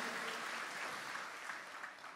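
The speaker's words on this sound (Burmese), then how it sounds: "လက်ခုပ်တီးလက်ကုံပြုကြရအောင်" A church congregation claps together in a steady, fairly distant patter of applause that tapers slightly toward the end.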